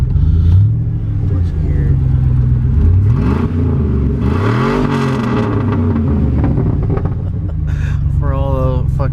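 Chevrolet LS V8 in a drift tow rig truck revs up and settles, its loud throaty rumble swelling several times close by, with someone talking over it.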